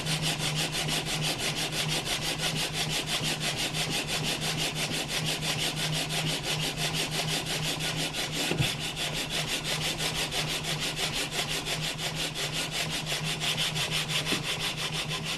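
Steady, continuous sanding on the wooden edge area of a guitar fretboard being prepped for binding, a close, even rasping scrape with no pauses.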